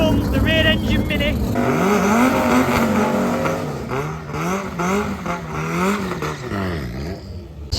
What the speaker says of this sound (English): So here comes the rear engine Mini.